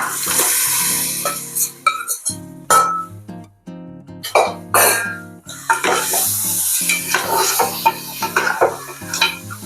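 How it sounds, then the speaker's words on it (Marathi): Marinated mutton sizzles loudly in a pan while a spoon stirs and scrapes it, with bursts of frying hiss and clattering metal contacts in an irregular rhythm. "तर याच्यात मी मटण घालून घेते. हे आपलं मगाशी मॅरिनेट केलेलं मटण आहे."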